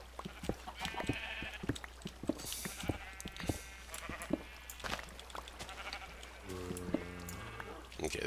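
Sheep bleat on a Minecraft sheep farm, several wavering bleats scattered across the clip over repeated digging clicks, with someone talking intermittently.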